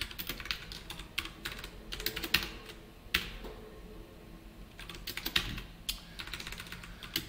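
Someone types JavaScript code on a computer keyboard, producing irregular bursts of clicky keystrokes separated by short pauses, near and soft, with no talking.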